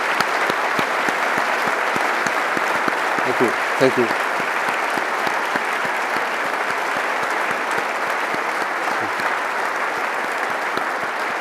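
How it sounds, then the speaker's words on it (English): An audience at a foundation's public round-table presentation applauds its trustees and council trustees with steady, dense clapping that continues the whole time, while a voice briefly speaks over it. "I'm going to ask you please for a hand of applause to our trustees and council trustees"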